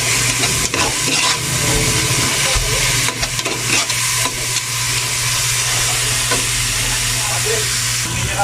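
Tomatoes cooking in a pan while being stirred give a loud, dense hiss and sizzle with scattered scraping knocks, close up and continuous.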